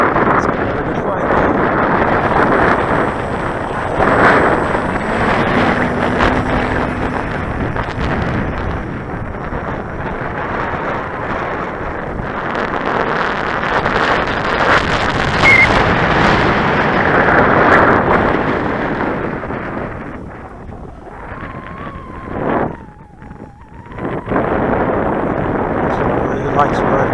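A Cessna 170 light airplane roars through its takeoff run, a loud, sustained engine drone buffeted by heavy wind rumble. Toward the end the sound dips and wavers, and brief talk comes in around it.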